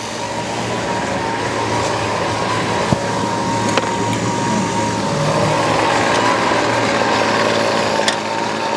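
A Weedeater Feather SST25 string trimmer engine runs with its idle being adjusted, a loud continuous buzzing drone that holds steady throughout with only slight rises in level.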